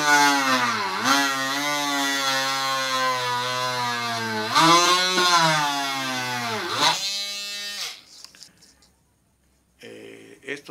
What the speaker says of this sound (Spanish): Yo tengo un pequeño taladro, con ese vamos a hacer los barrenos